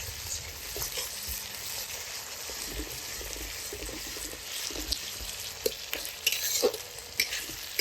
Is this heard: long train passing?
no